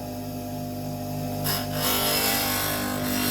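An old chisel pressed against a running grinding wheel: a steady motor hum, then a harsh broadband grinding rasp starts midway and continues loudly as the steel meets the wheel.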